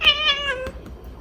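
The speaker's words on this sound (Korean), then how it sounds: "저희 집 고양이가 강아지를 보고 울고" A domestic cat gives a clear, close meow, one drawn-out tonal cry lasting about a second that fades at the end, with no talking over it.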